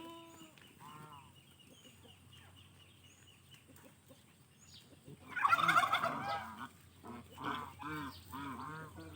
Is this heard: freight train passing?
no